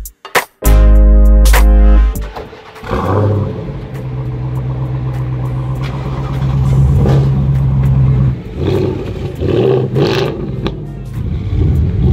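A big American muscle car on a road trip in France starts with a loud, deep engine burst, then settles into a steady rumbling idle before revving and pulling away up close, alone without talk.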